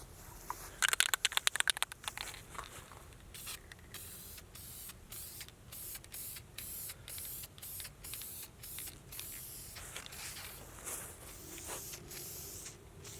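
Black spray paint hisses onto parts of an abandoned Dodge Challenger in a rapid burst of short sprays, then a long run of separate short bursts, close and clear, with no talking.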